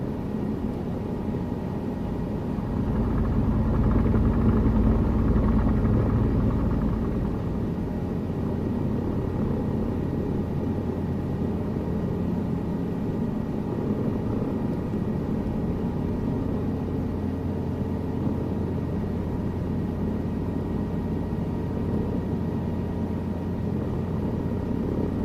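A simulated helicopter hovering over a helipad in a flight simulator game, a steady low rotor and engine rumble that swells briefly early on, then holds an even drone throughout.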